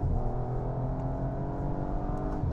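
An Audi RS5 Sportback's V6 engine in dynamic drive mode hums in a low, steady tone heard from inside the car, with no one speaking over it.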